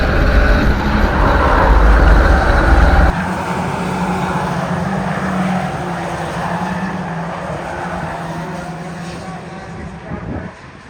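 Several race cars roar along a circuit in a tight pack, loud and close with a steady engine drone that drops slightly and fades toward the end.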